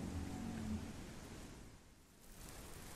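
Steady rain shower falling on water, a soft, even hiss with faint low rumbling that holds throughout and dips slightly before returning.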